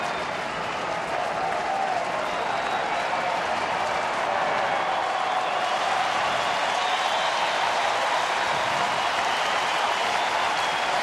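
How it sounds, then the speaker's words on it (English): A baseball stadium crowd of about 39,000 cheers and applauds at a Cleveland at Detroit game in 2009, a steady, broad roar that swells slightly and stays loud from start to finish. "Here comes the crowd."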